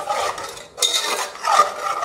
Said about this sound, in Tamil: தயிரை வந்து நம்ம நல்லா மிக்ஸ் பண்ணிடணும்